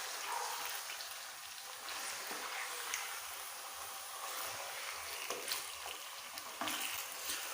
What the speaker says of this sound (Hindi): चिकन को हम अच्छी तरह से फ्राई कर लेते हैं।